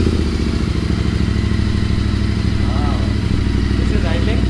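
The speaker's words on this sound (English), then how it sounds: "I'm going to power on the bike and show you guys how the bike sounds" A Royal Enfield Interceptor GT 650 idles with its exhaust baffles removed and an AEW stainless megaphone exhaust fitted, giving a loud, close, steady throbbing rumble with a rapid even pulse.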